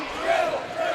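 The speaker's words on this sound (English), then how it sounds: "you can hear our crowd right now yelling, boring." Basketball crowd at a Liberty North vs Kearney men's game yelling and jeering in unison, a sustained chant of many voices that rises and falls over about a second, with a commentator talking over it.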